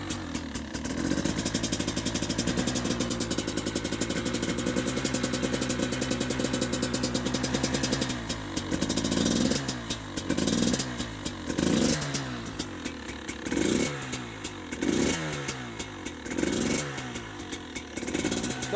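A 2020 KTM 300 XC TPI two-stroke dirt bike engine after a -2°C cold start, sputtering steadily near the mic and then blipped with a series of throttle revs that rise and fall repeatedly, no talking.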